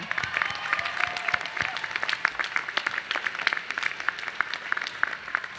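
Steady applause from a crowd at a law school commencement, many hands clapping densely and continuously at moderate volume throughout, with a few scattered cheers mixed in.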